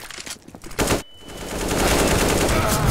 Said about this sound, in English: I hit him in the head with the AK